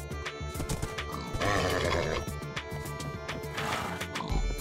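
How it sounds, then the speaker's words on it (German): In the Minecraft video game, a white horse gives a loud, close neigh and whinny over rapid clip-clopping hooves and a rhythmic game background track. "Oh, du bist ein starkes Pferd, mal gucken."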